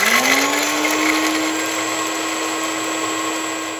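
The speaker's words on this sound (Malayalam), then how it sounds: "അത് തണുത്ത ശേഷം ഇതുപോലൊരു മിക്സിയുടെ ജാറിലേക്ക് ഇട്ട് കൊടുത്ത് അതൊന്ന് ക്രഷ് ചെയ്തെടുക്കാം" A mixer grinder crushes fried curry leaves and dried red chillies in its jar. The motor whirs up at the start, then holds a loud, steady drone with no voices.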